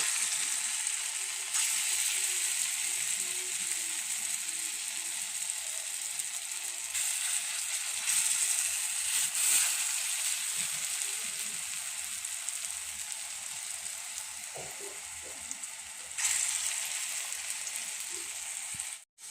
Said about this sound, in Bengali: আলু ভাজা করে কড়াতে যে তেলটা আছে সেই তেলটার মধ্যে আমি ডালের বড়াগুলি ভেজে নেব